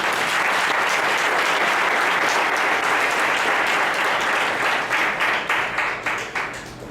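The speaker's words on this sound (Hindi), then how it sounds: "एक जोरदार ताली उसके लिए" A church congregation gives a hearty round of applause, loud massed clapping that holds steady before thinning into scattered individual claps and fading out.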